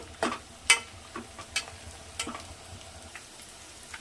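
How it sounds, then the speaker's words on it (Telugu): Onions frying in oil for hotel-style mutton biryani, a soft steady sizzle broken by scattered scraping clicks of a spoon stirring them every second or so, close and fairly quiet. "ఈ ఆనియన్ బాగా గోల్డెన్ బ్రౌన్ కలర్ వేయించాలండి. మధ్య మధ్యలో కలుపుతూ ఉన్నాము."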